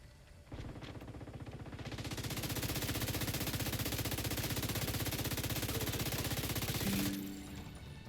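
Sustained rapid automatic gunfire in a shooting video game, a loud continuous burst of tightly packed shots rattling for about six and a half seconds before cutting off abruptly.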